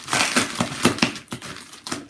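Loud crinkling and crushing of tightly wrapped bubble wrap as a vintage Onkyo Integra A-933 amplifier is unwrapped, with irregular bursts of plastic rustle close up and no talk.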